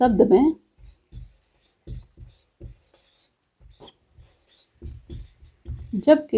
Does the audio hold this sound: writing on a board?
yes